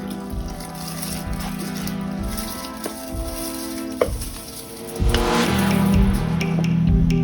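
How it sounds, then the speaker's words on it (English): Rice is tipped into a boiling pot of coconut milk for a rice and beet dish, giving a loud bubbling, sizzling rush with a sharp clatter midway and a stronger boil after. "Now it came to a boil. I'm gonna add my rice."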